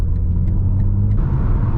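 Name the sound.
BMW G80 M3 Competition exhaust burbles while driving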